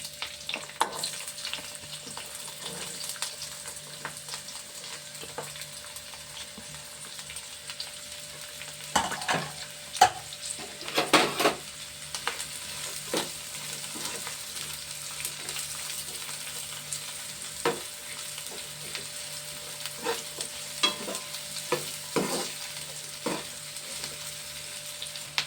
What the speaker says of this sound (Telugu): ఇందులో ఉల్లిపాయలు వేస్తున్నానండి.